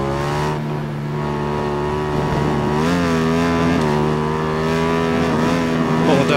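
A 2003 Aprilia RSV1000R racing at Monza GP in the game RIDE 4 holds a steady, loud engine drone throughout, its pitch rising and falling slightly with throttle changes, alone without talk.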